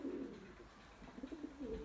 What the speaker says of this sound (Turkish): Görüyor musunuz koca martıyı? Bakın bakın kuşlara bak.